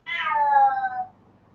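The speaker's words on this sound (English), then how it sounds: "Oh, is that your kitty?" A single close cat meow, loud and clear, starting high and sliding down in pitch over about one second before fading into quiet background.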